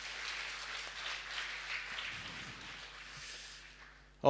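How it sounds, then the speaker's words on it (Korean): A congregation at a Wednesday worship service applauds the church choir with soft, distant clapping spread across a few seconds that fades gradually. "오늘 하나님의 성호를 찬양하신 우리 성가대 위로의 박수와 또 영광의 박수 하나님께 드리겠습니다."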